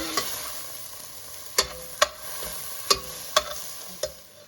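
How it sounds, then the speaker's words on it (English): Mushrooms sautéing in a pan, a soft steady sizzle broken by half a dozen sharp scraping and clicking strokes of a utensil stirring at uneven intervals, fairly close. "So we're going to keep on sauteing for a little bit longer until they've got a really good color on them."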